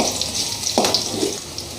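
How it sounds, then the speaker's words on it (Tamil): Garlic and dried red chillies frying in hot oil in a pan, a steady close sizzle with a brief stir or scrape in the middle, no talking. "பூண்டு இப்போ பொரிஞ்சிருச்சு."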